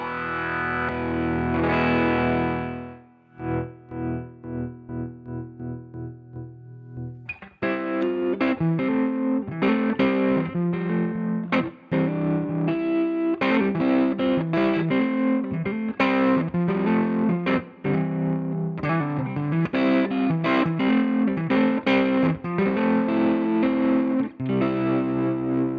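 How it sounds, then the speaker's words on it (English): A fuzzed guitar runs through a Seymour Duncan Fooz analog fuzz synthesizer pedal with tremolo on a square wave setting, giving a loud, distorted tone that chops on and off in a choppy, steady pulse after a sustained opening chord. "So let's start off with a square wave down here, and we can get that classic old school kind of sound."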